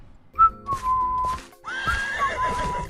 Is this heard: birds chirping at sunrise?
no